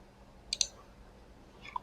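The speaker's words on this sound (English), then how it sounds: "we click on the things which you want, we just click" Computer mouse clicks while editing in PowerPoint: a quick double click, then a single faint click a moment later, in a quiet room.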